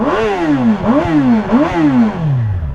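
A 2008 Suzuki GSX-R 750 motorcycle on its stock exhaust revs loud and close, its engine note climbing and falling back in three quick blips before settling lower, with no talking.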